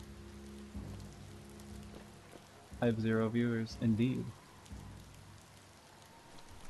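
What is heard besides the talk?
rain in the video game Biomutant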